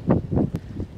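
Wind blowing over the Danube gorge, pushing in the same direction as the current, comes as broad low rushing gusts that swell and ease roughly three times in a second, fairly loud and steady with no voices.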